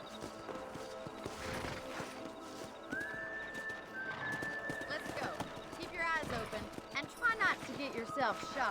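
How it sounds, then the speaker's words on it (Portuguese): In the Western game Red Dead Redemption, a horse's hooves clip-clop steadily in a galloping rhythm, with a whinny breaking through partway, while voices talk over the hoofbeats. "Monta a cavalo."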